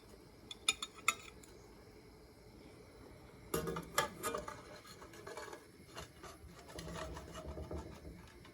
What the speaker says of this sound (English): you want to take a metal spatula and just move it to the side